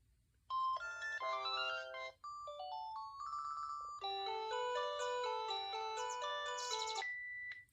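A string of electronic phone ringtones plays one after another: beeping melodic tones and chimes, clear and close, with short gaps between tunes.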